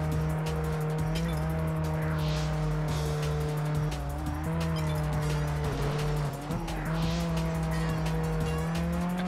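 Racing engine drone and tire squeal from a car in Test Drive Unlimited on PS2, loud and continuous with a skid and a rough knock around the crash, no talk.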